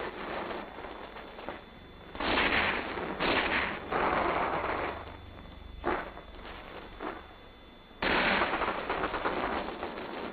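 Gunfire during an infantry rifle squad attack: several bursts of sharp, crackling shots in uneven clusters, some longer and sustained, separated by brief quieter gaps, heard at moderate distance.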